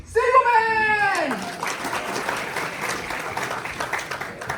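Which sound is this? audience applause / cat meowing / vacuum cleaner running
audience applause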